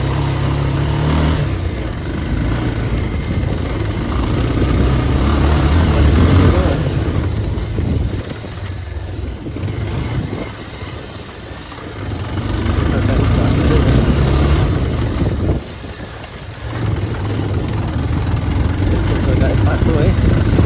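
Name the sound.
motorcycle riding on rough dangerous off-road track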